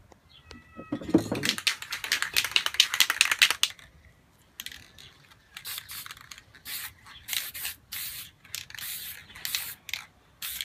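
A spray paint can misting over a mountain painting, short hissing bursts in irregular clusters, moderately close, preceded by a cat's meow.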